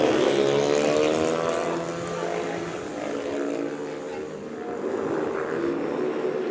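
Speedway motorcycles race on the dirt track at Perris Raceway in a three-rider clubman heat. Their engines make a loud, continuous roar with rising and falling tones as the bikes pass close by.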